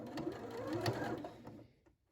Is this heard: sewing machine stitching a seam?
yes